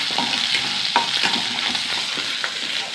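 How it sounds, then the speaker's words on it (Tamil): Ginger, garlic, green chillies and dried red chillies tempering in hot oil, a close, bright sizzle with repeated stirring scrapes and light crackles, no voices. "இஞ்சி பூண்டு பச்சை மிளகா வரமிளகா போட்டு தாளிச்சிடலாம்"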